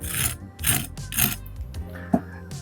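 Loud, close crunching bites into a crispy potato pancake (rösti), three bursts of crackling chewing followed by quieter munching.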